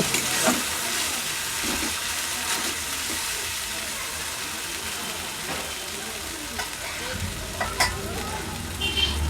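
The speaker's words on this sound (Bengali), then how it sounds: "সবগুলোকে খুন্তি দিয়ে নেড়েচেড়ে বেশ ভালো করে মিক্স করে নেব" Spices and Kashmiri red chili powder fry in hot oil while a spatula stirs them, giving a steady close sizzle with scraping strokes and a few louder clinks near the end.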